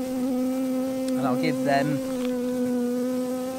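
Honey bees buzzing at an opened hive during a winter check, a steady droning hum close by, with a brief stretch of quiet speech partway through.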